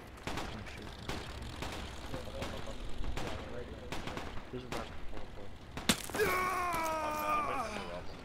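A BMP-3 armoured vehicle firing in Project Reality, with repeated sharp gunshots at a steady rhythm, moderately distant. A loud crack near the end is followed by a voice speaking over the noise.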